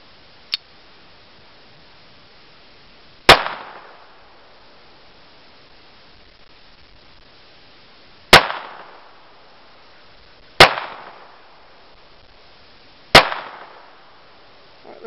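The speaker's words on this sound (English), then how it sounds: "Just take a few shots." Four sharp, loud Browning Buck Mark pistol shots fired at clay targets outdoors, spaced a few seconds apart, each with a short ringing decay, plus one faint click near the start.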